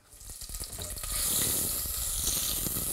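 Vegetables for cauliflower soup sizzle in a hot pan, a soft hiss that swells after a second and then holds steady, close by with faint clatter underneath.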